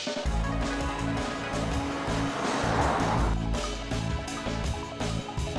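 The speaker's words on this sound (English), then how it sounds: "the CLA 220 diesel that I'm driving" A 2013 Mercedes CLA 220 diesel car driving, heard as a steady low engine drone with road and tyre rumble, loud and continuous from inside or near the car.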